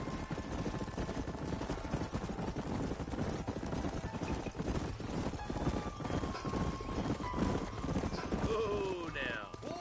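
Horses ridden as a group in the Red Dead Redemption video game, dense overlapping clip-clop of hooves at a steady gallop with a whinny near the end, under a voice talking.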